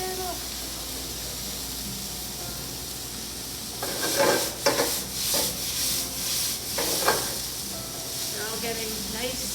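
Onions sizzle in a pan over a steady frying hiss while a spatula scrapes and stirs them in a cluster of rubbing strokes midway, a voice briefly audible near the end.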